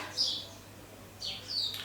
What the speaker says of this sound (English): In true Munosi Eats fashion, the birds are chirping.